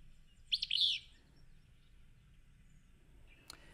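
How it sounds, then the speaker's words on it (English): Willow flycatcher giving a single short, bright burry call at close range, followed by quiet background and a faint brief click near the end. "Willow flycatcher."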